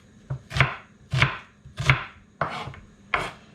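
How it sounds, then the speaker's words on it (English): A knife chops peeled onions into small pieces on a board for a cottage pie, with five crisp, evenly spaced cuts, close and clear, and no talking. "skinning and then cutting into small pieces"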